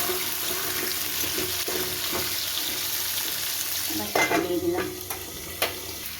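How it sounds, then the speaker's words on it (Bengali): Raw chickpeas and potatoes fry in hot oil with a constant sizzle, and scraping stir strokes grow louder and more frequent toward the end. "কাঁচা ছোলাই দিয়ে দিলাম তেলের মধ্যে ভাজা হতে হতে এটাও নরম হয়ে যাবে"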